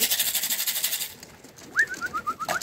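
A short run of soft, repeated cooing notes from a racing homing pigeon, fairly close, following a stretch of rustling, hissy background noise.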